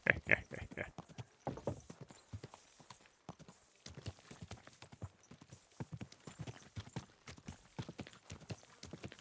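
Horse hooves clip-clop steadily on hard ground in a city street with a fountain in the medieval game Kingdom Come: Deliverance II, a continuous walking rhythm of close, moderately loud strikes with a brief whinny near the start.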